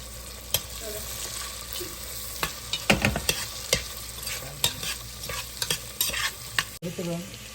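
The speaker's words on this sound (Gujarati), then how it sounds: "થોડું ઓનિયન બી નાખી દઈશું આપણે હવે બધું મિક્સ કરવા માટે." Onion stirred into khichdi frying in a pan, with a steady sizzle beneath repeated scraping and clinking of the spoon against the pan, close and fairly loud, no speech.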